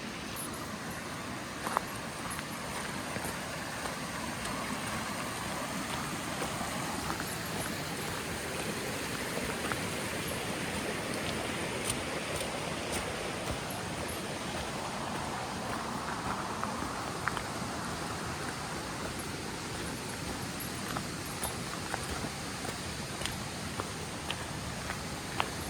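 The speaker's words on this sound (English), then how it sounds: "I can hear the water." Majestic Falls waterfall in Oregon heard from a distance as a steady, even roar of rushing water that holds without pause throughout, with no talking.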